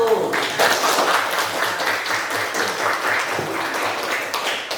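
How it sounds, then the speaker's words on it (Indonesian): A classroom audience claps for a student group, steady dense applause close and loud with no talk. "Itu kita berikan aplaus dulu untuk kelompok 1"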